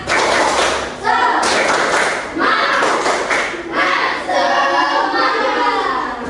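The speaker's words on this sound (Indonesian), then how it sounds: "mari kita tepuk semangat terlebih dahulu" A class of children performs the tepuk semangat spirit clap, loud patterned clapping and thumping in bursts with children's voices chanting along throughout.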